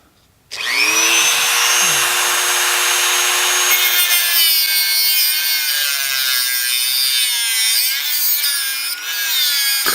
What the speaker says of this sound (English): I've grounded out with the carbide burr